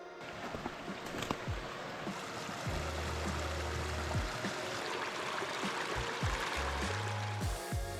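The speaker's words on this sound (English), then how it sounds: "The river continues over that way." A river flowing through thick woods, a steady broad rushing wash of water with faint trickles and occasional low thumps, heard alone without talk.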